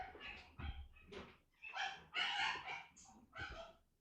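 A dog barks and yips in a quick irregular series of sharp, fairly faint calls with short pauses between them, heard from a small distance.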